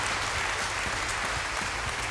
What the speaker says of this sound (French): je pense qu'on peut les applaudir encore